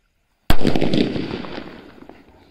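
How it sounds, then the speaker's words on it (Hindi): A single sharp, loud blast from a medium-size sutli bomb firecracker that cracks suddenly and then trails off into a rumbling, decaying echo over about two seconds. "ये देखा भाई आपने क्या शानदार धमाका हुआ हमारा, जो कि मीडियम साइज का सुतली बम था"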